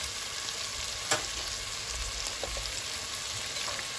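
Tomatoes frying and sizzling in a pan for dhaba-style aloo keema, a steady close crackle with a brief stir clink, no talking.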